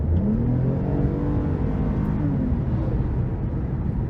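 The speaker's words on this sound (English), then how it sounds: "So I'm really impressed by that exhaust." A 2023 Toyota Camry TRD V6 accelerates with a loud, throaty exhaust note, a dense steady roar with rising engine tones over about four seconds, no one speaking.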